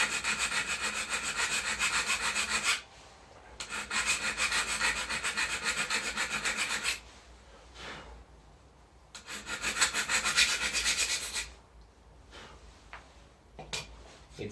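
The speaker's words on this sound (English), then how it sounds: "grind only one side on this carrier." Grinding one side of a steel carrier part for a CNC machine, heard as three long, loud, steady bursts of rough abrasive rasping separated by short quieter gaps with small clinks.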